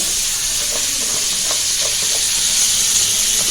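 Masala-coated crabs fry in hot oil with a constant bright sizzle and hiss, and faint crackles pop through the steady frying.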